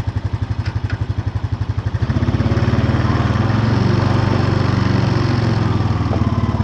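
A 2014 Honda Foreman 4x4 TRX 500 FM1 ATV engine chugs close by with a rhythmic, throbbing idle, then revs up and pulls steadily louder as it drives off in first gear.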